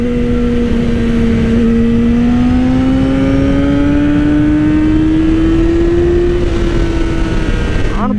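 A Yamaha R6 sport bike's exhaust holds a loud, steady high-rev drone that climbs slowly in pitch, heard up close and alone before cutting off at the very end.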